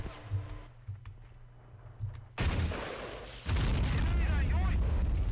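Battle noise from Men of War: Assault Squad 2 as a bazooka round strikes a tank: a loud boom, then sustained rumbling blasts and gunfire.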